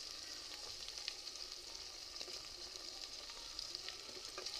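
Tomatoes, ginger-garlic paste, ground red chilies and chopped green chilies fry for chicken biryani, giving a steady, even sizzle throughout with faint crackles and no voices.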